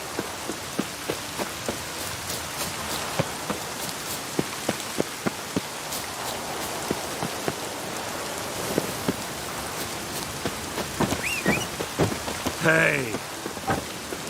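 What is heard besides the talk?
rain and thunder called down by Thor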